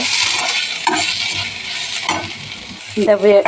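Onion frying with a pinch of salt in a pan gives a close, continuous sizzle, broken by brief scraping stirs and a short clink of a utensil near the end.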